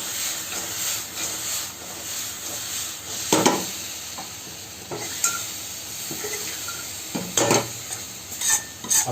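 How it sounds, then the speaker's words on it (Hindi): Spoon stirring crispy fried chickpeas with onion and capsicum in a pan for chana chili, soft scraping and faint sizzle with a few louder clatters of utensil against metal, no talking. "चना को मिलाएंगे"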